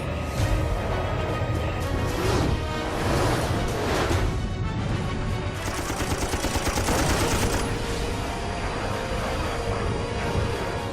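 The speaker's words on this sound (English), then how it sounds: "50 caliber armor-piercing incendiary rounds slam into the MiG's aft fuselage" .50 caliber armor-piercing incendiary rounds slamming into a MiG's aft fuselage during a Korean War dogfight, a loud, dense, continuous rattle of rapid impacts and bursts lasting throughout.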